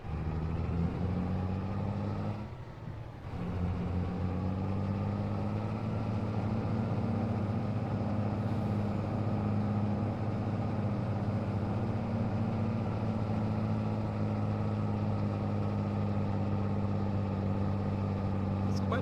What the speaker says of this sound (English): I hope you can hear the sound of the Mack truck fine.